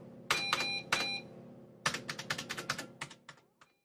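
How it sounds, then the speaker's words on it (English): Typing on a computer keyboard, a few separate loud keystrokes followed by a quicker run of crisp clicking taps that trails off, close and clear with no talk. "He was typing a kind of code on the screen."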